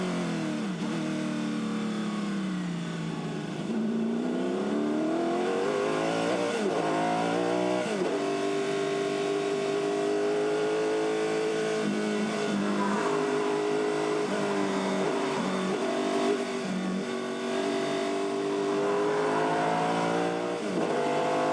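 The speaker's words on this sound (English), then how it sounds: "Let's have a listen to this car on the acceleration out of the corner." A Formula 5000 race car engine roars and revs continuously accelerating hard out of a corner at Pukekohe, pitch climbing and dropping through gear changes, loud and close.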